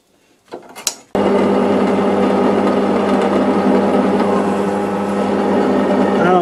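A dull drill bit bores into metal while making a 12mm boring bar holder, a steady loud grinding whine that runs continuously after a brief faint clatter at the start.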